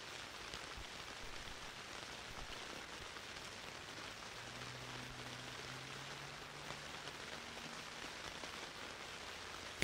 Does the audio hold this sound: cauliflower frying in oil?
no